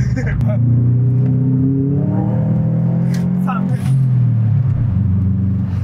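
Car engine revving hard and sliding sideways in four-wheel drive on a drift run, the deep engine note rising and falling through gear-laden pulls, loud and close, with people talking over it.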